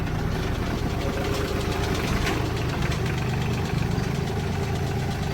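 A large tractor's engine idles nearby in a steady, rough, rumbling drone with a fine knocking rhythm throughout, and no talk over it.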